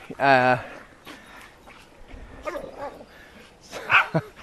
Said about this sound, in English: Dogs are having a fun play, so I'll turn this around.